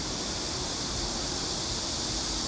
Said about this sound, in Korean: 물소리와 매미 소리가 세차게 들립니다.